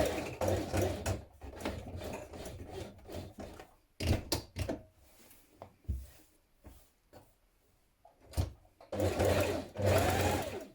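Sewing machine stitching a shirt, several close bursts of rapid mechanical chattering separated by brief pauses, loud and alone.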